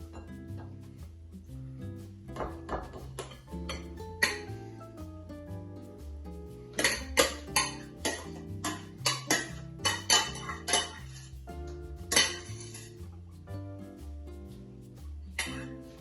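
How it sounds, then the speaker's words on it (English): Plates and cutlery clink and knock as carbonara is dished up, a run of close, bright clatters clustered in the middle over a faint tonal background, with no speech. "Get our plates out. Let's dish that up straight away."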